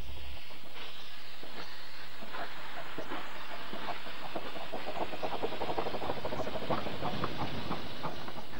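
A steam locomotive hissing and chuffing nearby, with steady hiss and a quickening train of exhaust beats building over the clip.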